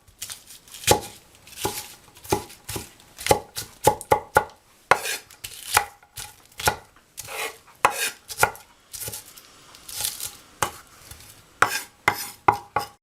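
A sharp knife chops vegetables for sofrito on a cutting board in quick, uneven bursts of crisp thuds, close and clear with no talking.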